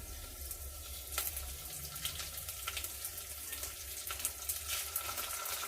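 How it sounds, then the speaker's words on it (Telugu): Coriander seeds, dried red chillies and cumin fry in hot oil with a soft, steady sizzle and faint crackles, quiet and continuous without speech. "వేసుకున్న తర్వాత కొంచెం మీడియంలో పెట్టి వేయించుకుందాం"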